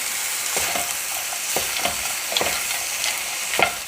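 Ground beef and mixed vegetables sizzle steadily in a pan while being stirred, with loud frying hiss throughout and a spoon scraping the pan in irregular strokes every second or so, no talking.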